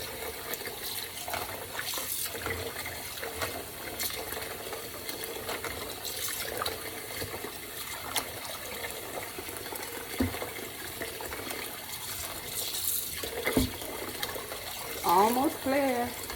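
Tap water runs steadily into a kitchen sink while a pork roast for tamales, soaked with vinegar, is rinsed and washed by hand, with low splashing and a voice talking over the flow.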